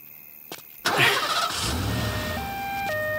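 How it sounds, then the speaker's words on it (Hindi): A car engine started: a click, then the starter catches at about one second and settles into a steady low idle, close and moderately loud, with a faint tone sounding over the idle. "पहले गाड़ी स्टार्ट करवा दो"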